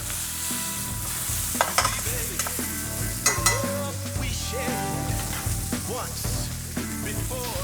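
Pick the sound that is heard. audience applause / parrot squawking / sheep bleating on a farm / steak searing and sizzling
steak searing and sizzling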